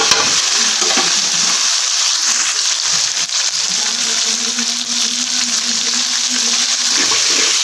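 Tomatoes fry with curry leaves and garlic in a hot pan, giving a loud, continuous sizzle close by, with scraping stir strokes scattered throughout.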